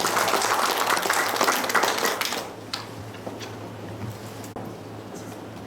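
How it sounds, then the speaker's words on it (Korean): Audience applause at a humanities forum lecture in Korea, a dense patter of clapping that fades after a couple of seconds into scattered claps and room noise. "큰 박수 부탁드리겠습니다"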